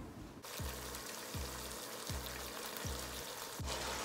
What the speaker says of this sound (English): and then I add the fish to it, because yeah, fish doesn't take long to cook